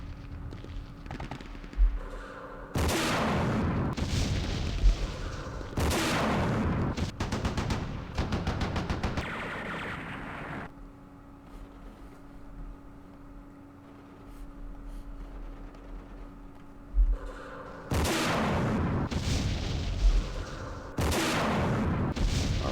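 Bursts of rifle and machine-gun fire from a Vietnam War strategy game, loud and sharp in dense volleys, separated by a quieter stretch before more rapid firing.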